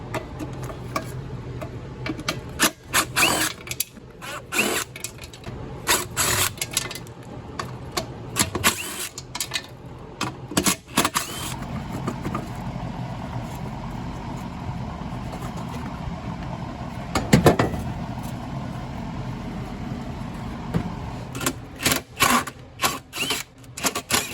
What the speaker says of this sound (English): But I use my brother's trusty impact.